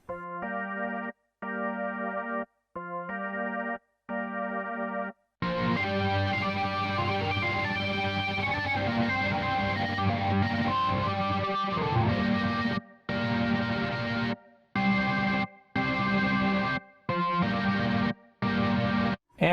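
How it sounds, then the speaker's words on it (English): Hammond B3 organ played through Waves GTR distortion, a few sustained chords first in clean, clipped bursts, then a long heavily distorted, gnarly passage, then more choppy stop-start chords, loud and alone. "so that you can hear the organ regular and the organ gnarly."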